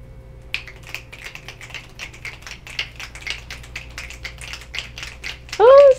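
A group audience patters fingertips together to imitate light rain, a dense, steady stream of soft clicks and taps that builds gently, with a voice briefly rising over it near the end.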